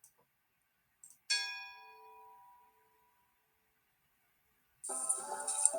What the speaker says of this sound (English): that's going to include a bell ring at the beginning